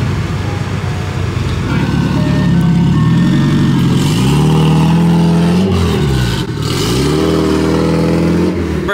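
Turbocharged K-swapped Toyota MR2 engine running on a dyno, loud and close, with rising and falling revs that sweep up and drop back several times; a voice talks over part of it.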